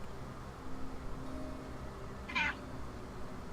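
A single short cat meow sounds once, fairly clear against a faint, noisy indoor background.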